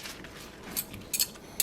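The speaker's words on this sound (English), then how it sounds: "just take your fork and spoon, toss it all together" Fork and spoon toss a large Lithuanian garden salad dressed with sour cream, giving soft wet shuffling with a few sharp metallic clinks against the bowl, close and brief.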